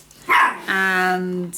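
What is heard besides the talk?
dogs barking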